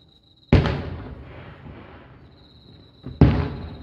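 Fireworks heard from home, two sharp booming bursts a few seconds apart, each with a rumbling, crackling decay, set against a faint steady high insect-like whine in a quiet night.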